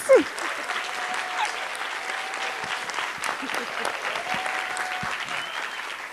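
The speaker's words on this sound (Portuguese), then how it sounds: "queria também pedir uma salva de palmas para os dois" An audience at the opening of an art festival claps for two people, giving a sustained, even wash of applause. A faint tone and some murmur run beneath it.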